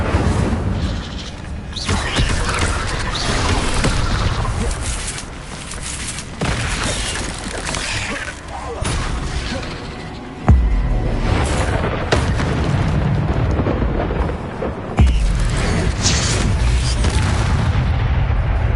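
Fire spell Incendio being cast repeatedly during Hogwarts Legacy gameplay, heard as loud, dense booming blasts with crackling bursts, several sharp hits landing in quick succession amid continuous combat noise.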